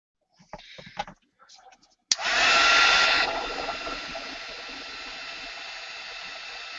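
Dryer blowing on paint over a mixed media canvas, switching on abruptly after a few soft handling sounds and holding a loud, steady rushing whir that eases slightly after a second.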